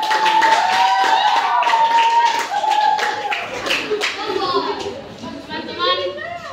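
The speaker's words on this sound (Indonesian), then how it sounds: "Boleh tepuk tangan." Children in a classroom clap briefly at the start of a lesson, with sharp hand claps mixed under a voice and lively chatter, and the talking carries on after the claps fade.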